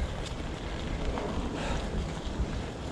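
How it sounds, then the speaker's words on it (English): Wind roars across the microphone of someone riding a 12-year-old Carrera Vulcan bicycle, a steady, loud, broadband rumble that lasts the whole three seconds with no talking. "Well, the wind's behind me."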